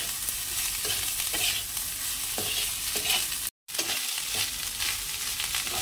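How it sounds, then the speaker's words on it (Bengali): Rice being stirred into a frying pan with egg and prawns, a steady close scraping and sizzling that runs throughout, broken by a brief dropout partway through. "এবার দিয়ে দেবো ভাতটা। মিক্স করে দেবো।"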